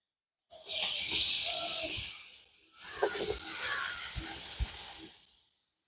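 Carrot and cabbage hit hot oil with onion and chili in a pan for dosa kothu, setting off a loud, bright sizzle that swells, dips briefly, then surges again with soft scraping and stirring knocks underneath.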